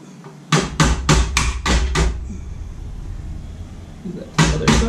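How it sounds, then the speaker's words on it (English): A screwdriver tip tapped against a knockout ring on an electrical enclosure during a solar disconnect installation. Six sharp metallic knocks come in a quick steady run, then a pause, then two more close taps. "we're just going to put the tip of the screwdriver on the ring we want to remove."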